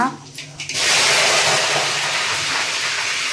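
Whole dried red chillies hit hot oil for tamarind rice, starting with a sudden loud, steady broadband sizzle that carries on without a break.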